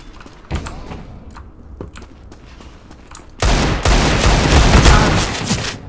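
Desert Eagle pistol shots in a CS:GO Dust II deathmatch, scattered sharp cracks at first, then a dense, loud stretch of overlapping gunfire near the end.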